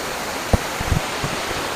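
Rushing water at the fourth level of Erin Ijesha waterfall forms a loud, continuous broadband roar, with a few dull thumps nearby.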